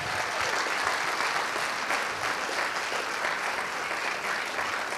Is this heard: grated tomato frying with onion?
no